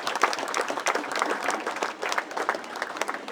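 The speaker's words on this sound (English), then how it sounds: "Round of applause for that, ladies and" An audience applauds at a Lions Club of Washington, D.C. address, with dense, steady clapping that carries on evenly throughout without voices.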